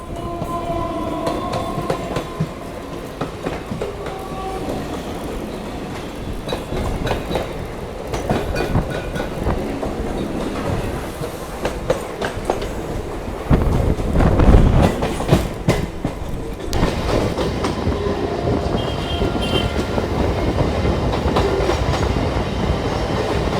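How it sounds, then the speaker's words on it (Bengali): A Chennai local suburban train rolls into Chennai Beach station, with loud steady rumbling, rhythmic wheel clatter over the rail joints and a heavier surge of noise midway through, heard from on board. "আমাদের ট্রেনটা ঢুকছে এখন চেন্নাই বিচ স্টেশনে"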